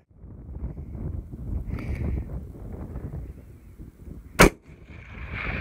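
A single sharp long-range rifle shot, from a .338 Lapua or 6.5 Creedmoor on a rock chuck hunt, cracks loud and sudden over steady wind noise and then fades quickly.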